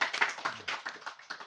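A small group applauds at a Ramayan reading in a family home, with brief, uneven bursts of hand claps that are moderately loud and close.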